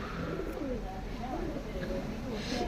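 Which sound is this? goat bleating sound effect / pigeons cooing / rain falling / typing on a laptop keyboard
pigeons cooing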